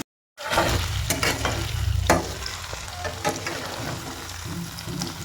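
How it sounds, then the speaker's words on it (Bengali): Paneer pieces lightly fry in a little refined oil in a wok, giving a steady close sizzle with occasional stirring clatter and scrapes. "এরপর দিয়ে দেবো কেটে রাখা পনিরগুলোকে হালকা ফ্রাই করে নেব।"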